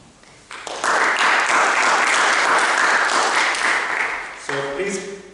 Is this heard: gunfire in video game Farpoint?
no